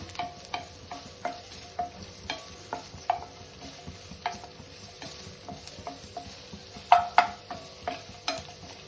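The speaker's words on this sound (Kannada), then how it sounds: "ಆಯಿಲ್ ಬಿಸಿ ಆಗಿದೆ. ಈಗ ಈರುಳ್ಳಿ ಸೇರಿಸ್ಕೊಂತ ಇದ್ದೀನಿ." Onions fry in a little hot oil for Kundapura chicken curry, stirred with a spoon that taps the pan in a steady rhythm over a low, soft sizzle, close by with no voices.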